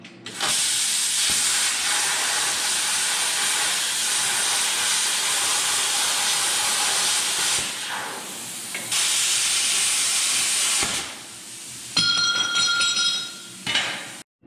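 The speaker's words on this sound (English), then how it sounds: "I'll probably get the plasma cutter out and get some rough chunks cut out of here" A plasma cutter slices rough chunks from metal sheet in a home garage, a loud continuous hissing roar that runs steadily, breaks off briefly twice, then resumes with a higher whining tone near the end.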